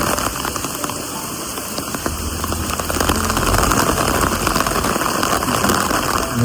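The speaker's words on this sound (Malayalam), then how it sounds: "നല്ല മഴ." Heavy rain falls in Luxembourg, a dense close hiss of drops pattering on surfaces that grows a little louder and fuller partway through, with no voices.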